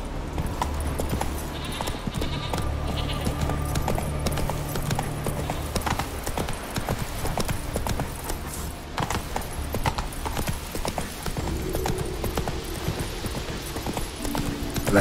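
Hooves clip-clop in a steady trot from Geralt's horse Roach in the video game The Witcher 3, close and continuous with ambient game sound beneath.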